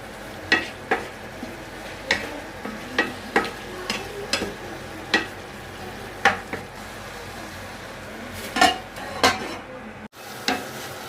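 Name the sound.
stirring tomato chutney with salt in a pan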